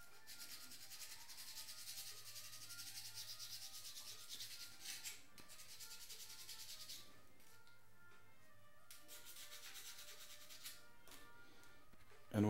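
Sandpaper, 150 and 80 grit, rubs back and forth over a surface in steady, quiet hand strokes, a soft continuous scratchy hiss with a few brief pauses.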